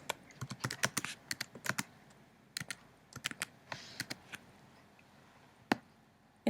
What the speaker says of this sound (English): And then type the date.